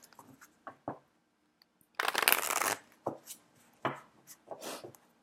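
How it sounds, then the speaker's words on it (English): Tarot cards are shuffled by hand in quick soft riffles and taps, with one longer burst of cards flicking together in the middle among sparse clicks, close and quiet with no talk. "One more shuffle."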